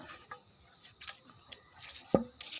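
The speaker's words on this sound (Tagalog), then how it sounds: "Magdikdik tayo ng bawang." Garlic pounded in a mortar for a homemade chicken remedy with moringa and black pepper: several sharp, irregular knocks spaced through a quiet room, close and moderately loud, with one heavier thud near the end.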